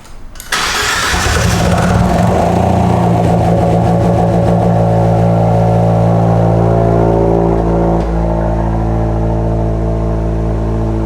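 A big-turbo Abarth 124 converted to run on E85 cranks and fires up, then holds a loud, steady idle with a brief dip near the end, heard close with no talking.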